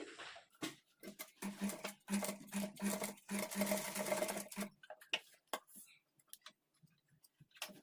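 A sewing machine with a single foot stitches cloth for invisible thread piping, running in quick rhythmic bursts of close mechanical ticking for about five seconds before trailing off into sparse clicks.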